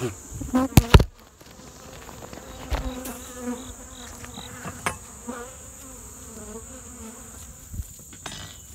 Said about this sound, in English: there's a bee there in the center of the frame that's got pollen on its legs